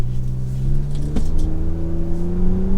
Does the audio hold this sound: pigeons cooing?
no